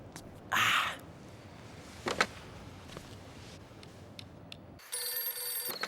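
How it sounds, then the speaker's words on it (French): A telephone ringing on an outgoing call, heard as a short burst of ring tone, then a brief second chirp, and a steady electronic tone on the line at the end. "est-ce que je pourrais utiliser votre téléphone pour passer un appel"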